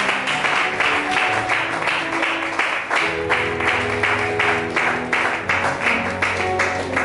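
Applause and cheering from a congregation at a pastor's ordination and consecration ceremony, a dense steady wash of clapping over sustained organ or keyboard tones, with no talk.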